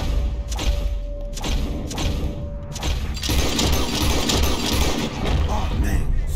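Gunshots fired at birds flying overhead in the Red Dead Redemption 2 video game, with several loud cracks and thuds over a busy in-game background and some talk around them.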